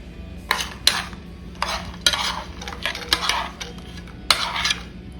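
A spoon stirs ghee-fried cashews, almonds and raisins into payasam, with repeated scraping clinks against the pot coming in short bursts, close and fairly loud, with no talking.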